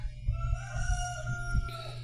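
A rooster crows once in a long, drawn-out call, moderately distant, over low rumbling background noise after a flood.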